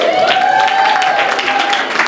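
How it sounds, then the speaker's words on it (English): An audience at an evening public event applauds student organizers in a short, loud burst of clapping lasting about two seconds, with a faint steady whistle-like tone running through it. "And a round of applause for our student organizers."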